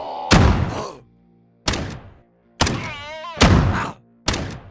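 Shotgun pistol fire in the video game QuasiMorph: five heavy, booming blasts spaced roughly a second apart, each with a sharp onset and short decaying tail, loud and close.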